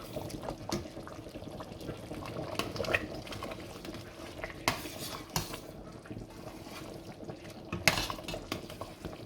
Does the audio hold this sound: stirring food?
yes